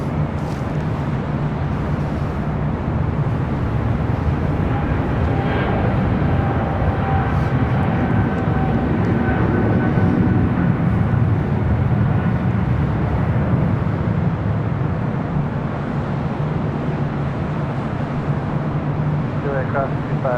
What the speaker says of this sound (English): American Airlines Flight 134, heading to London Heathrow, now rolling down to